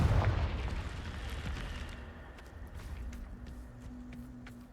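Confringo spell blast in Hogwarts Legacy, a deep booming explosion at the start that rolls off into a long rumbling decay with scattered debris crackles, loud and close.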